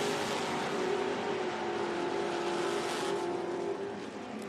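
Drag racing cars launching at an IHRA Outlaw Nitro event, including a 1966 Ford Fairlane: a loud, steady engine roar that holds for several seconds and eases off slightly at the end.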